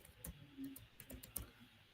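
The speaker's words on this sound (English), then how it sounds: "I'm just typing this" Quiet typing on a computer keyboard during an online faculty session, with a handful of soft, irregular key clicks heard close up and alone, no talk over them.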